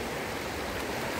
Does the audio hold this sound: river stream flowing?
yes